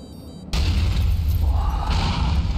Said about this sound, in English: The explosions have been impeccable on here.